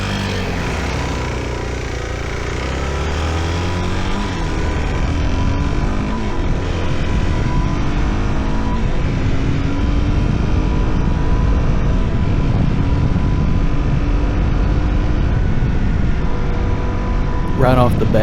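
A 2025 Suzuki DRZ4S motorcycle engine drones steadily while riding, its pitch rising and shifting under heavy wind rush, with someone talking over it throughout.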